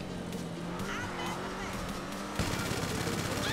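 Machine gun fire from the Vigilante car in GTA V Online, rapid steady bursts over engine noise that grow louder and denser partway through, with a voice speaking beneath.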